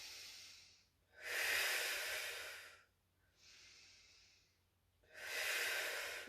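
A Pilates instructor breathing heavily during a mat exercise: four long, close, hissing breaths alternating between stronger exhales and softer inhales, with no talking.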